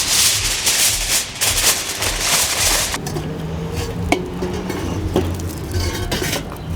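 An onion tossed into a pot for smoked spaghetti meat sauce over a charcoal fire: a brief clatter and thunk of the pot and utensils, close and moderately loud, with scattered clinks after.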